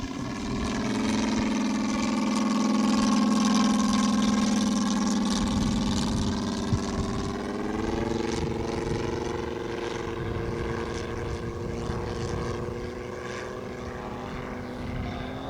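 A Moki 250 radial engine drives a Carf AT-6 Harvard scale model airplane at a flying demo, a steady droning propeller hum with a shifting pitch as it passes, loud and continuous with no talk.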